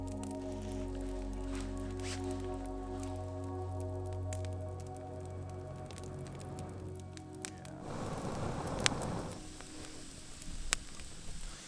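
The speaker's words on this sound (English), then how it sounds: "So it's really, you can hear it sizzling." Wet firewood sizzling and hissing in a campfire, a steady close crackling hiss beneath a continuous low hum, with a louder burst of sizzle near the end.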